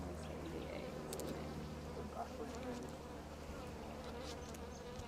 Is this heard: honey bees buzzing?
yes